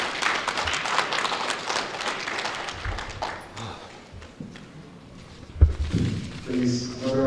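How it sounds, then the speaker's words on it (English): Audience applause at a results review meeting held by an electoral commission chairman, a dense patter of clapping through the first seconds that thins out, followed by a thump and some talk near the end. "Please, another round of applause for Chairman."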